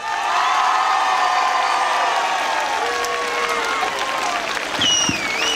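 A crowd at a parish saint's-day festival applauds and cheers for a performer, with dense clapping under loud shouts and whoops, plus a few voices and high tonal calls rising near the end.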